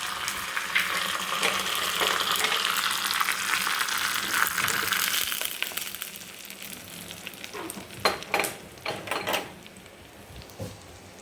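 Mustard seeds and curry leaves sizzle and crackle in hot oil for tempering a peanut chutney, a loud steady fry for several seconds that fades into scattered pops and clinks.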